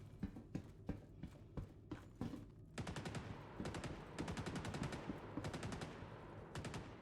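Gunfire in a multiplayer shooter game, a volley of sharp shots followed by fast, rattling bursts, moderately close and loud, with quick rhythmic footsteps mixed in.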